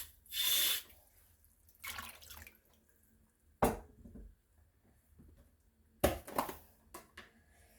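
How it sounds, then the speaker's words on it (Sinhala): Water, some of it left over from boiling meat, is poured into a pot for boiling pasta in several short, separate splashing bursts with quiet gaps between them. "මදි ප්‍රමාණයට හොඳට තැම්බෙන්න වතුර දා ගන්න."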